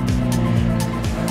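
A 2025 Ducati Panigale V2 S sport motorcycle rides on the Seville race circuit in southern Spain, giving a brief, loud engine roar with quick pitch sweeps as it passes.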